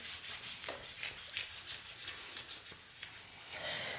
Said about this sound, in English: Give that hamstring a rub